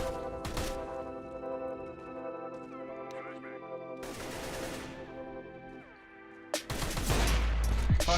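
Video game gunfire as one player shoulder peeks another: sharp bursts of shots at the start, around the middle and a loud rapid volley at the end, over a steady game drone with voices talking.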